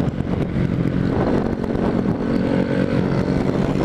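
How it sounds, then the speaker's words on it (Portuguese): Small motorcycles pass close by on a road, giving a continuous buzzing engine roar with overlapping revs as several bikes go by in quick succession. "A maioria é moto pequena"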